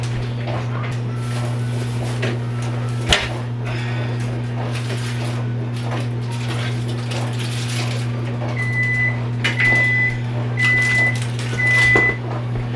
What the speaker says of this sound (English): I'm gonna microwave my leftover corn.